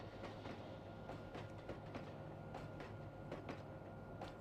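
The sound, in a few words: Kakatiya Express train in Trainz Android video game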